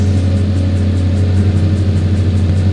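A truck engine in the Baby Bus mobile game gives a continuous steady drone throughout, loud and unchanging with no distinct revs, and no talking over it.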